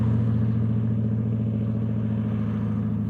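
A Camaro in a video game drives by close and loud, its engine a steady deep rumble with a low droning hum that holds evenly throughout.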